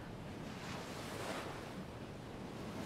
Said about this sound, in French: Vous entendez le doux ruissellement de l'eau alors que la marée déferle sur le rivage et sur vos pieds, puis recule dans la mer.